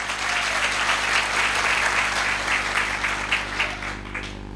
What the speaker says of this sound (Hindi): मैं चाहता हूं इनके लिए दमदार जोरदार तालियां होनी चाहिए।